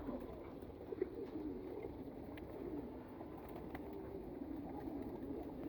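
Soft cooing of pigeons feeding blends into a steady low murmur of birds, continuous and moderately close, with a few faint clicks and no talking.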